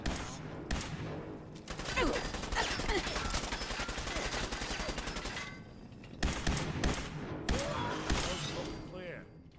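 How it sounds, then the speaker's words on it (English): Rapid bursts of automatic gunfire and scattered shots in Fallout 4, loud and sustained across most of the span with a brief lull before another volley. "It appears someone is shooting at us"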